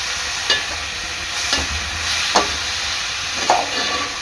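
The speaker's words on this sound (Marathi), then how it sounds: "कोथिंबीर आणि पुदिन्याची पेस्ट चांगला मिक्स करून घ्यायचं आहे" A coriander and mint paste is stirred in a pan for tuna fish biryani, giving a soft steady sizzle with four or five faint scraping strokes spaced about a second apart.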